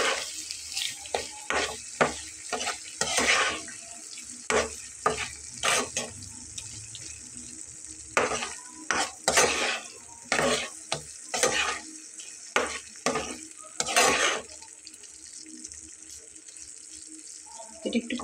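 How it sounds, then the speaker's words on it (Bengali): Sliced tomatoes cooking down in a pan, a low sizzle under repeated bursts of scraping and stirring that come in uneven clusters with short pauses between. "এটা একটু 5 মিনিট কষিয়ে নিলেই টমেটোটা কিন্তু গলে এটার সাথে ব্লেন্ড হয়ে যাবে"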